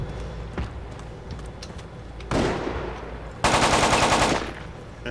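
Tanks fire in a video game with a rapid burst of automatic gunfire near the end, after an earlier shorter volley, over a low rumbling background with no speech.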